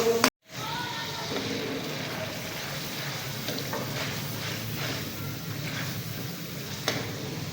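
Onion and tomato fry in a pan with garam masala, turmeric and salt, giving a steady, close sizzle that cuts out for a moment near the start and then crackles on evenly.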